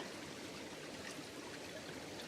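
Water trickles and rushes steadily in a small stream beside a gated mine entrance at Nenthead, a soft, constant burble with no voices.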